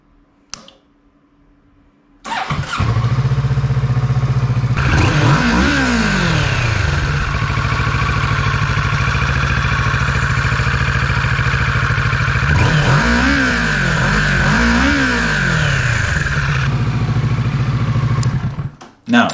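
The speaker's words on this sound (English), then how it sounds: "Now you can start the engine and check for any leaks" A Kawasaki Ninja 650 motorcycle engine starts up after an oil change, then runs steadily and close by, with two bursts of revving partway through before it shuts off.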